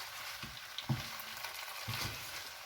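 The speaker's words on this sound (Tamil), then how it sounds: "நல்லா கலர் மாதிரி வர அளவுக்கு வறுத்தாச்சு பார்த்தீங்களா" Chettinad pepper chicken sizzles softly in a pan, a quiet, steady frying hiss broken by a few scraping stirs.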